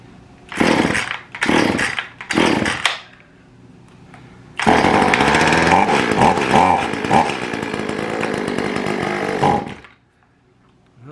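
An Echo CS400 two-stroke chainsaw with a faulty carburetor coughs through three short pull-start bursts, then catches and runs loud and close for about five seconds before cutting out.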